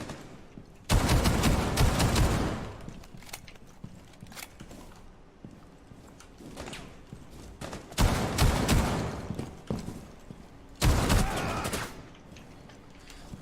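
Rainbow Six Siege gunfire from the operator Kade's weapon crackles in three loud, rapid bursts separated by quieter stretches of in-game movement and faint rustling.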